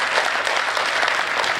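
Steady audience applause fills a poetry recital hall, a dense continuous wash of many hands clapping at moderate loudness with no talk over it.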